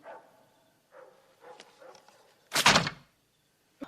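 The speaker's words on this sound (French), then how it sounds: "Qu'est-ce qu'il a gueulé comme ça, ce putain de chien?" A dog barks a few muffled times at a distance, followed by one loud, close, abrupt burst, with no speech.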